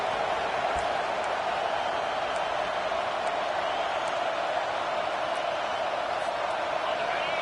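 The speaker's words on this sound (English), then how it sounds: "Here comes this home crowd as the defense tries to get off the field on third down." Home crowd cheering in a football video game on a third-down defensive stand, a dense, constant roar of many voices that holds at an even level throughout, with no break or swell.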